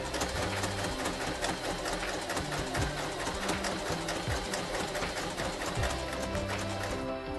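A Kreshay sewing machine stitches through fabric with a fast, steady mechanical whir and rhythmic needle clatter, running loud and continuous from start to finish.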